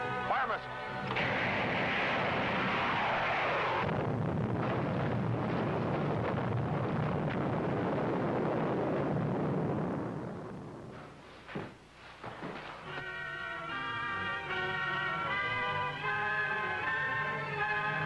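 A missile is fired and explodes in a 1950s space serial sound effect: a loud burst builds into a long roaring blast that dies away, followed by a musical sting.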